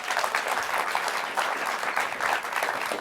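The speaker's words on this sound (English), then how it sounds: "Another round of applause for Mike." An audience at an aviation event gives a short burst of applause, many hands clapping in a dense, even wash with no one speaking.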